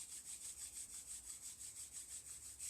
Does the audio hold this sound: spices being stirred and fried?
no